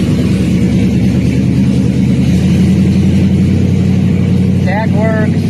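Built motor in a Chevy OBS pickup idling steadily and loudly close by, with a continuous rumbling drone and slight rise in the middle, and a person speaking over it.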